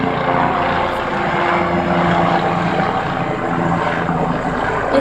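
A police helicopter flying overhead near a house, its loud, continuous rotor and engine roar filling the air steadily throughout with no talk.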